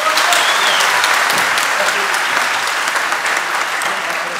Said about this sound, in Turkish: Alkışlıyoruz Emre'yi.